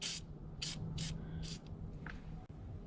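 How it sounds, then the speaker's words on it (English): PB Blaster penetrating oil sprayed onto the steering shaft of a 1986 Mustang in four short, close hissing bursts, with a low steady hum underneath. "Spray with a little bit of this PB Blaster"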